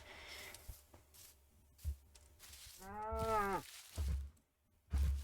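Cows in the Minecraft video game moo in a few separate calls, one long clear low moo standing out in the middle, amid soft scattered game sounds and thumps, with no talking.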